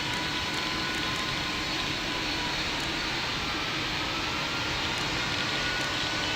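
An Air Canada A320 in the Pilot Training Flight Simulator game rolls for takeoff with a steady, loud, broadband engine roar that holds constant throughout, with no voices over it.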